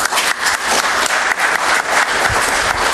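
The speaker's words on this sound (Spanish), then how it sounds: "podemos darnos un fuerte aplauso entre todos" Dense, steady audience applause at a Spanish-language safety talk, many hands clapping together loudly and continuously with no speech over it.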